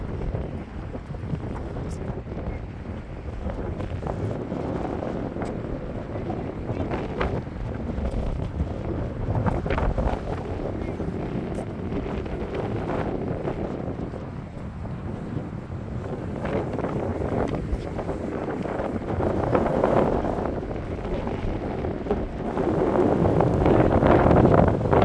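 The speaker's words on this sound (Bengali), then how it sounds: "আজকে এখানটা এত হাওয়া দিচ্ছে" Strong seaside wind at a lookout on Point Ormond, Melbourne, roars steadily into the microphone for the whole stretch, loud and buffeting and swelling toward the end.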